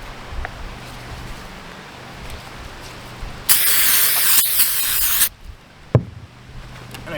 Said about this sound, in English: Let's clean this roof with a little bit of brake cleaner.